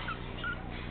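A teacup chihuahua puppy gives two short high yips and whimpers, close and fairly loud over a steady background hiss.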